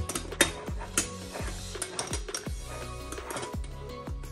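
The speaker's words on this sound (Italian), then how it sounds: "Ok, andiamo a chiudere la nostra moka." A moka pot being screwed shut makes a run of close, dry metallic clicks and grinding scrapes in an irregular ratcheting rhythm, with no talk.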